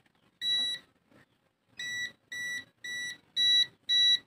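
An Aneng ST 190 clamp meter emits a string of sharp, high electronic beeps: one early tone, then five evenly spaced beeps close together, loud and clear with no talk over them.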